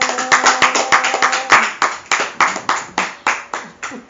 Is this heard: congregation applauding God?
yes